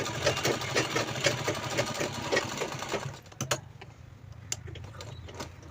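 Sewing machine stitching a handbag, a steady loud chatter of rapid needle strokes for about three seconds, then stopping to a few clicks and faint handling noises.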